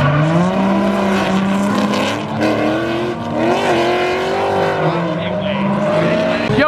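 Race cars lap at the Gridlife South 2018 motorsport event, engines droning and rising through gears at close range, tires squealing at moments, with a loud continuous roar throughout.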